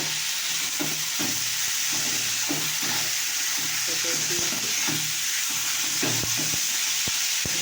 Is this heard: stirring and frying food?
yes